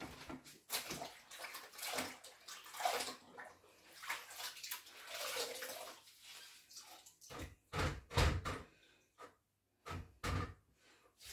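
Water pours into a plastic bucket during refrigerator cleaning with vinegar, a steady splashing rush that fills most of the clip before breaking into shorter bursts and pauses near the end.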